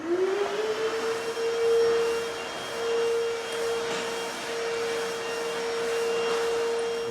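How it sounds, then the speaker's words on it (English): A vacuum cleaner runs steadily on a screened hardwood floor nearby, a loud whining drone that rises at the start and then holds a constant pitch over a motor rush. "So now after screening, we vacuum."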